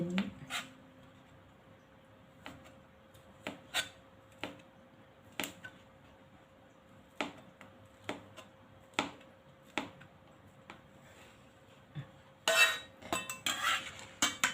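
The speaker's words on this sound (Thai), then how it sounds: "ต่อไปก็หั่นไส้กรอกนะคะ หั่นไส้กรอก เป็นชิ้นช" A knife slicing sausage taps sharply against a cutting board in slow, irregular chops, each a crisp click, ending with a brief clatter of utensils.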